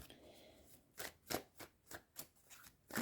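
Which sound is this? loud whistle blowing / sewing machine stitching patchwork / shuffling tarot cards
shuffling tarot cards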